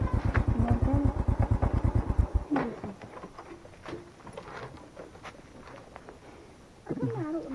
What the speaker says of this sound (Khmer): នេះមកពីម៉ូតូ